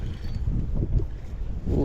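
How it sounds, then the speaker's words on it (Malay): Strong wind buffets a microphone outdoors while fishing for catfish on the water, a constant loud low rumble of gusts filling the clip with no talk. "Oh, angin kuat geng"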